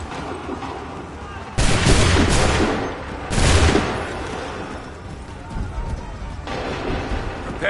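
A musket volley in Assassin's Creed III, two loud blasts about two seconds apart that ring out, then fade into a quieter rumbling battlefield.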